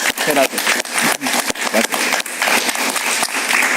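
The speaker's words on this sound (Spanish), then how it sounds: "Un aplauso para él." Studio audience applauding a guest on a television talk show, a dense steady wash of clapping with some talk mixed in.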